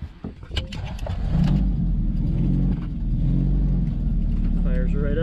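A Triumph car engine cranks and catches, then settles into a steady low rumbling idle, with a person speaking briefly near the start.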